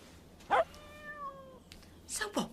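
A cat gives a single clear meow, with a high, drawn-out tone close to the microphone. Short thuds and rustles come before and after it in a quiet indoor space.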